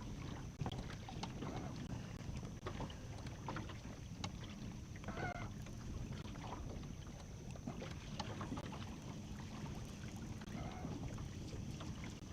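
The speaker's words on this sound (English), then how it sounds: "There's the wind again." Wind blowing over Patoka Lake during bass fishing from a boat, a low, steady rushing with faint scattered knocks and water sounds, moderately quiet and without talk.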